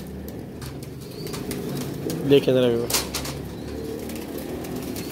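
Pigeons coo in a loft with a short burst of wing flapping near the middle, while someone talks over the birds.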